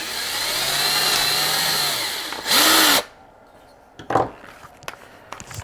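A rotary tool chips material out of the hollow head of a custom 1/4-scale Wolverine sculpture, running in a sustained whine that shifts pitch, then a louder short burst, followed by scattered clicks and scrapes.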